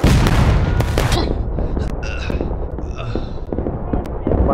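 A volley of musket fire in the War of Rights video game, with a loud close burst of overlapping gunshots followed by scattered further shots and booms echoing at varying distances over a dense, noisy battlefield background.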